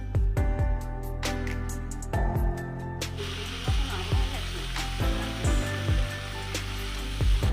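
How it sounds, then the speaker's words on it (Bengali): Raw mango pieces with salt frying in oil in a kadai for pickle give a steady sizzle, broken by repeated clanks and scrapes of a ladle stirring against the metal every second or so. "এবার আমি একটু কড়াতে তেল দিয়ে নিই নিয়ে একটু নুন দিয়ে আমগুলোকে নেড়ে নেব"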